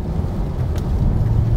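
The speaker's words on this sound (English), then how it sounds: "You have the nice growl from the engine" Low engine growl from a 2021 Lexus IS F Sport heard from inside the quiet cabin, a steady, muffled rumble with road noise and no talking.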